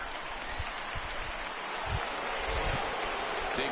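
A large stadium crowd of over 39,000 roars in a steady, dense wash of cheering after a home run in MLB The Show 19, swelling slightly partway through and continuing throughout.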